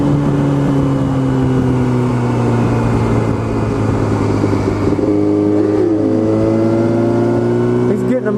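A car engine revving steadily, then shifting into second gear, its droning tone dipping and climbing again midway through a loud, sustained run with no break in the engine noise.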